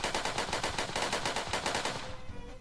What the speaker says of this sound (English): So that's what the gun sounds like.